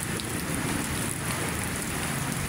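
Heavy downpour near Manila Bay, a constant loud wash of raindrops striking surfaces nearby, unbroken and without voices.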